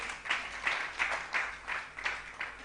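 A congregation at a prayer and fasting gathering claps for a pastor, roughly seven evenly spaced group claps pulsing in a moderate rhythm, somewhat distant and reverberant.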